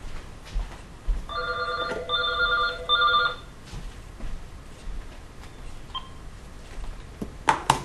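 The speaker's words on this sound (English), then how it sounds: "And there goes my phone." A landline telephone rings in three short trilling bursts, clear and fairly close, in a quiet indoor room with no voices.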